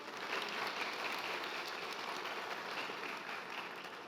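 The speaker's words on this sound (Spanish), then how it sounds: "Denle un aplauso, por favor." A church congregation applauds during a Spanish-language sermon, a steady, fairly faint wash of clapping that continues evenly throughout with no voices over it.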